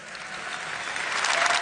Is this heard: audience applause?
yes